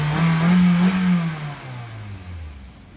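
Old car with 500,000 miles and a blown head gasket revving loudly nearby, then the engine note drops and fades as it pulls away, with no talking.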